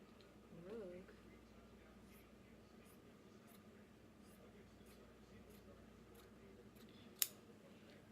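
Scissors cutting fabric for wrap pants over a rug: faint, sparse snipping and soft clicks in a quiet room, with one sharper snip near the end and a voice talking briefly.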